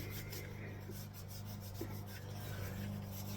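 A steady, low rubbing sound as a coat of finish is worked onto a wooden gun stock, with continuous friction and a faint hum behind it.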